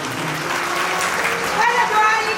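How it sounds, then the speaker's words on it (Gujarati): Applause for a team of priests at a temple idol consecration ceremony, a dense crowd clapping loudly and steadily throughout, with voices audible beneath it. "અમારા ભૂદેવની ટીમને તાળીઓથી વધાવો"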